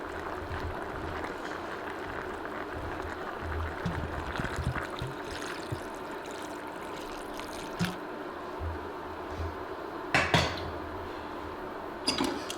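Water poured over beef ribs in a cooking pan, a steady low trickle and splash running throughout, with a few sharp clinks of utensils near the end.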